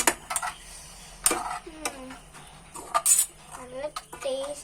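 Prawn roast being stirred in a pan, with a series of sharp metallic scrapes and clinks of the utensil against the pan in irregular bursts, close and fairly loud, while a voice speaks in the background.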